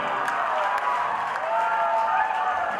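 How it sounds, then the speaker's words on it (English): A concert crowd applauds at a live rock show in a Chicago club hall, with steady mid-level clapping and faint cheers. "applause"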